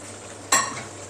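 A quiet background hiss, then a sudden sizzle burst as fried Gobindobhog rice is stirred in a hot pot, fading back down over a fraction of a second.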